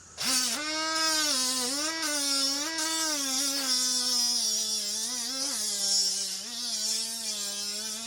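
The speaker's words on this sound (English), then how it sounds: "now we're going to use the 3485, the brand new half horsepower die grinder from Milwaukee, and I'm going to sand on this side" A brand-new Milwaukee M12 3485 half-horsepower die grinder sanding material, its steady motor whine rising and dipping in pitch as the load changes, running loud and continuously without pause.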